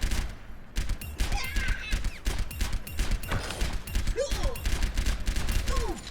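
Soldier 76's rifle in the Overwatch video game fires nonstop, dense rattling bursts of rapid shots with brief sci-fi whooshes and tones mixed in, loud and close throughout.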